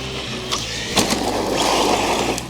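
An Arrma Senton 3S BLX RC car driving on a test run, a continuous rolling rush of tires and brushless motor whine with a few sharp knocks as it bumps over the surface.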